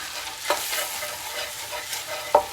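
Sausage and flour cook in a pan for a country fried steak gravy, giving a faint, soft sizzle broken by two short scrapes of a spoon stirring against the pan.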